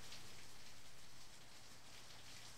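Heavy stormwater downpour falls as a dense, steady hiss of rain on surfaces, close and constant, with no voices or thunder.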